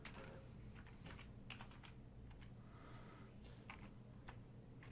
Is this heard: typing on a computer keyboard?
yes